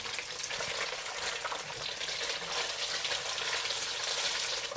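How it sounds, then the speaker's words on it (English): Egg tofu slices fry in a pan of oil, a constant crackling sizzle with fine irregular pops, close and moderately loud, running unbroken throughout. "We'll fry per side for about 2 minutes or so, just to brown them up."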